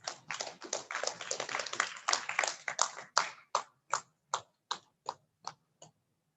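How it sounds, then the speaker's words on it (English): Hand clapping at an online Nigeria Institute of Soil Science meeting, a cluster of quick overlapping claps that thins into a few slow, evenly spaced single claps before stopping, quiet and close. "Please, can we give him a round of applause as he comes?"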